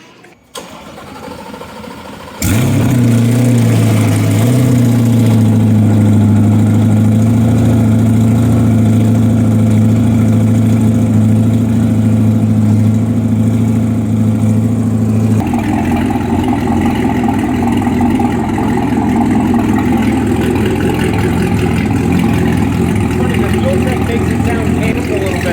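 Twin-turbo 1000 hp C8 Corvette with an MBRP exhaust cranks over and settles into a loud, steady idle with a deep, slightly canned drone, then the tone shifts partway through; people talk nearby.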